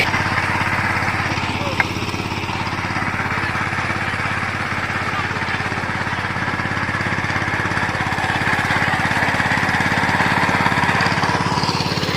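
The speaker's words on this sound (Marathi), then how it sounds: "आता आमच्याकडे ट्रॅक्टर आलाय आणि पाऊस असा आहे" A tractor engine runs steadily at a constant drone throughout, close and loud, in a wet rice paddy during the rainy planting season.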